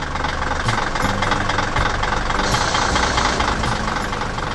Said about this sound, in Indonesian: Wah, lihat ekskavator itu.